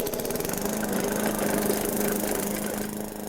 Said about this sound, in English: Wise use of your lawnmower can also make a big difference.